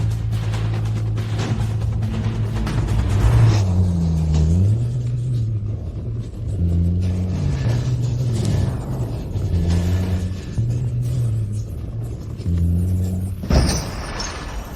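A car's engine rumbles steadily and loud throughout, with low tonal bands shifting as it pulls away and revs, ending in a brief sharp noise near the end.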